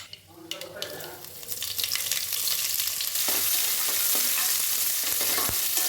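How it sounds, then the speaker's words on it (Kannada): Sliced onions and small cut tomatoes dropped into hot oil in a pan, sizzling loudly and steadily with occasional stirring clatter, the frying hiss building and filling the clip. "ನಾವು ಈರುಳ್ಳಿ ಎಷ್ಟು ಚೆನ್ನಾಗಿ ಫ್ರೈ ಮಾಡ್ಕೊತೀವಿ ಅಷ್ಟು ಚೆನ್ನಾಗಿ ಟೇಸ್ಟಿಯಾಗಿರುತ್ತೆ"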